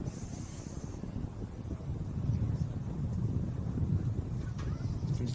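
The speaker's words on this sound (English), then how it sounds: "you can hear, not just on the effects mic, but also on my broadcast mic, it's a little windy" Gusty wind buffets the microphones beside a pitch at a women's NPL NSW football match, a steady low rumbling roar that swells and eases over a few seconds with no voices.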